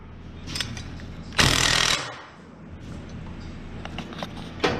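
A power tool tightens the air bag install bolts on a Dodge Ram's rear suspension, with one loud half-second burst of rattling impact noise at close range amid lighter clanks and handling sounds.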